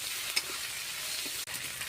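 Onion, tomato, ginger and garlic fry in a pan with a steady, close sizzle and a couple of brief stirring knocks, no voices.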